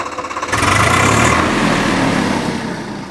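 A Swaraj 855 tractor engine in showroom condition, with only 270 hours of use, idles, then revs up and runs loud and steady close by, with a low rumbling chug throughout.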